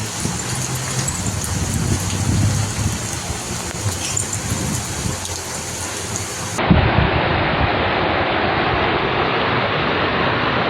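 Heavy rain pours down during Storm Claudia in Portugal's Seixal area as a loud, dense, continuous roar with a rumbling low end. Partway through, it abruptly turns harsher and more intense.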